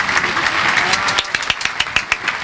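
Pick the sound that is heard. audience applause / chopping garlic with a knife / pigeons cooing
audience applause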